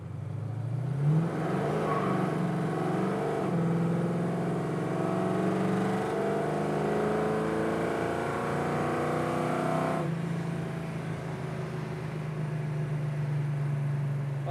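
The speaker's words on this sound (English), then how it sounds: "Running through a couple gears here." A 1967 Chevrolet Camaro accelerates hard through a couple of gears, engine climbing in pitch with each pull, dropping at the shifts and rising again, loud and close from inside the car.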